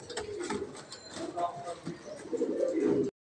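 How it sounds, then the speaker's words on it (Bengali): Pigeons at a loft with barless racers and fancy breeds, close low cooing calls repeating throughout with soft rustling, while a person talks nearby. "এটা হচ্ছে বারলেস ফিমেল সিঙ্গেল কবুতর, হ্যাঁ, এটা রেসার, বারলেস রেসার"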